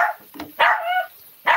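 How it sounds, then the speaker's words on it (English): A dog barks sharply a few times close by, short loud yaps separated by brief pauses. "Stop barking."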